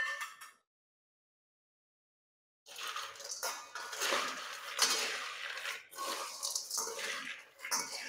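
Chivda is stirred with fried dried coconut in a pan, giving a short scrape, then a pause, then a run of dry rustling and clinking stirs, fairly close and alone.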